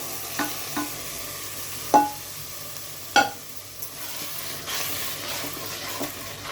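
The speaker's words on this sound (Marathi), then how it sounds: "छोले पण घालून घेऊया आपण" Chickpeas (chole) frying in a spiced curry in a pan: a soft, low sizzle runs underneath while a spoon clacks and scrapes against the pan in a handful of irregular knocks, with no speech.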